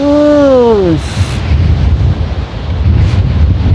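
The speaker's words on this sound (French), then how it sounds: "Non, le vent." Outdoor wind buffets the microphone in low rumbling gusts that swell and ebb for several seconds, after a voice briefly speaks at the start.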